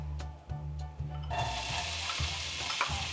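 Onions hitting hot olive oil in a pot for a low-carb spaghetti sauce, a steady close sizzle that swells and brightens partway through, with a few stirring knocks and clinks.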